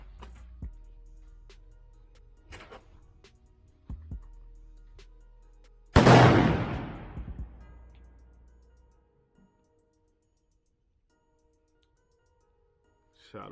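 A single long-range rifle shot fired at a target 996 yards away: one sharp, loud crack that rolls out into a long fading echo over several seconds, with quiet clicks and handling noise before and stillness after.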